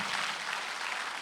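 A church congregation claps during a Sunday worship sermon, a faint, even wash of many hands applauding steadily for a brief moment.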